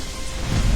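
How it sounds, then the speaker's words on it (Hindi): Heavy rain in a cartoon falls as a dense, continuous hiss, with a deep rumble swelling toward the end. "शाम को तेज बारिश होने लगी सो अलग।"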